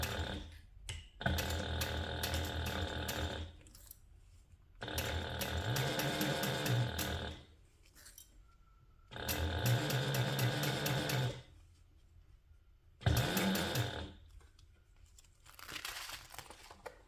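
A sewing machine stitches a zipper onto a clear TPU vinyl pouch. It runs in four bursts of rapid mechanical whirring, each lasting a few seconds, separated by quiet pauses with faint handling rustles.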